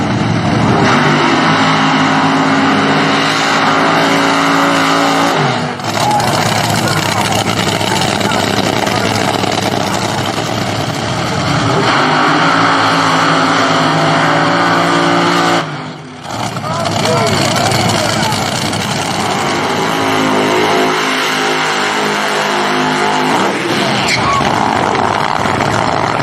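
A nitro top fuel dragster does burnouts, a loud, continuous roaring engine with long sustained blasts separated by brief drops, heard at a distance through crowd noise.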